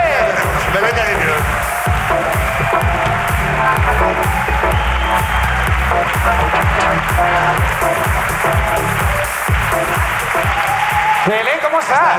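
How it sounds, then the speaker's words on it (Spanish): An audience claps for a guest named Belén in steady, loud applause lasting the whole stretch, with a host's voice and heavy low rumbling mixed underneath. "¡Aplausos para Belén!"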